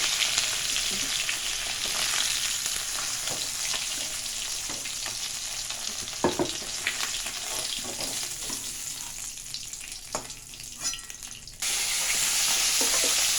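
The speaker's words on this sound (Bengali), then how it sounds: "এখন মাছের মুড়ো ভাজাটাকে ওঠানো হচ্ছে" A fish head fries in oil, a dense continuous sizzle broken by scattered clinks and scrapes of a utensil as it is lifted out, with the frying noise briefly thinning before rising again.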